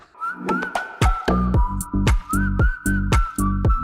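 A melodic whistled tune carries over a rhythmic beat of punchy drum hits, clear and up close.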